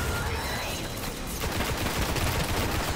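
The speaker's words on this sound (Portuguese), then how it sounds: "foi um tiro agora" Rapid gunfire in the video game Destiny, a dense, continuous stream of shots and noisy explosions without pause.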